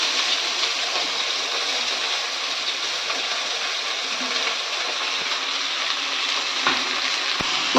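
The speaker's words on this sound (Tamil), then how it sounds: "நம்ம கட் பண்ண கோவக்காவை போட்டு ஃப்ரை பண்ணலாம்." Steady, loud sizzling and crackling of cut ivy gourd frying in hot oil, continuous throughout with a few brief clatters near the end.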